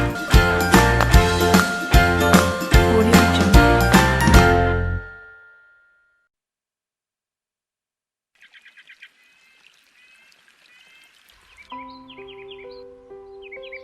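Bright, chirping birdsong trills for a few seconds in an otherwise quiet gap, between loud rhythmic music at the start and tinkling music at the end.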